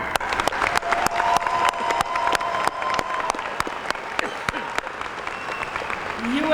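High school graduation crowd clapping, sharp individual claps standing out over a broad wash of applause and faint cheering, with voices talking underneath throughout.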